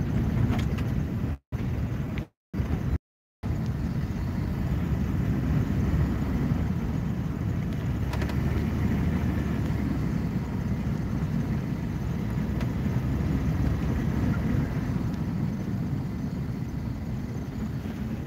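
A car drives through Amish countryside around Gladwin, Michigan, giving a steady, close road-and-engine rumble that runs throughout, broken only by a few very short dropouts near the start.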